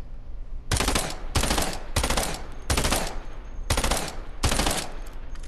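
Six loud bursts of automatic gunfire from a video game, each a dense rapid rattle lasting about half a second, spaced by short pauses over steady background noise.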